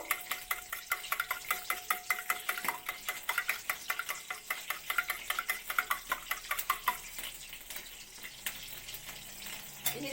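Eggs cracked into a bowl with salt, a little black cumin and turmeric powder, whisked steadily: a quick run of light, rhythmic clinking and sloshing strokes, close up and fairly quiet, with no talking.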